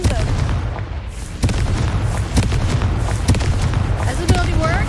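Repeated booming blasts from the Confringo fire spell in the Hogwarts Legacy video game, several sharp bursts over a steady low rumble of game sound, with a voice speaking briefly.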